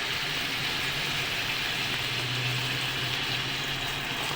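Water is poured into a pan of frying garlic, ginger and finely chopped tomato for dhaba-style dal mash, producing a steady, close sizzling hiss that continues without talk.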